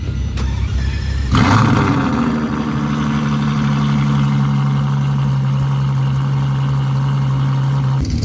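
A white Ferrari LaFerrari V12 fires up with a sharp bark at about 1.3 seconds, then settles into a loud, steady idle that holds close by for the rest of the clip.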